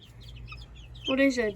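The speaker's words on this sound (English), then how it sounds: "I'm showing you a naked neck chicken." A naked neck chicken gives faint, scattered clucks, then a person speaks briefly over them.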